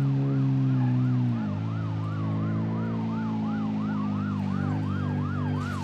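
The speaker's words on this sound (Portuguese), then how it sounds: "Escutando sirene aqui pra frente." Wailing police siren from the BeamNG.drive driving game, a loud warbling tone sweeping up and down steadily over a constant low engine drone, with no talking.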